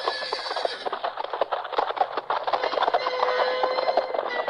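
Horses of Rohan gallop in a radio drama sound effect, a dense, continuous rush of hoofbeats and movement that stays loud and close for the whole stretch, with no voices over it.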